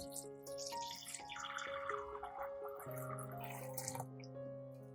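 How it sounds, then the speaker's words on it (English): Water is poured into a pot holding glass jars with a towel at the bottom, a close splashing and trickling against the glass beside a steady tonal background. "Fill the pot with water up to the mouth of the jar."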